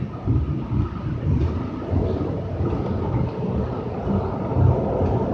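Siemens SD160 light rail train, car #2247 on the Red Line, rumbling steadily from inside the car with a continuous low-frequency roar and mild surges, loud and close throughout with no talk.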